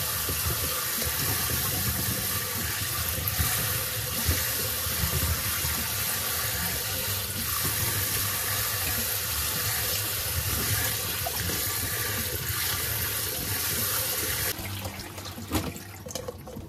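A kitchen tap runs steadily into a sink while plums are washed for brandy plum wine, water splashing and hissing continuously up close, then easing off in the final seconds.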